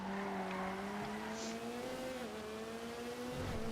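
An Ubermacht Sentinel Classic Widebody in GTA Online driving fast through town, its engine holding a steady, droning note that rises slightly, loud and continuous with faint tire noise.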